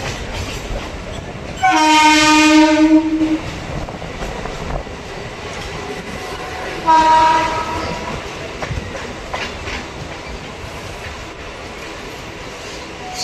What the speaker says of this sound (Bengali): এখন আমাদের ট্রেন এসে প্রবেশ করছে কাজরাপাড়া